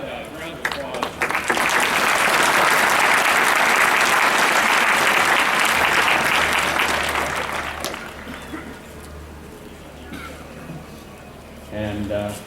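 A graduation ceremony audience for a university economics department bursts into loud, sustained applause that swells quickly and fades out over several seconds, with a few voices emerging near the end.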